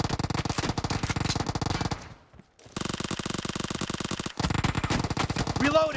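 Rapid UZI submachine gun bursts in a PUBG firefight, dense automatic fire rattling loud and close, broken by a short pause near the middle and a brief gap later before the shooting resumes.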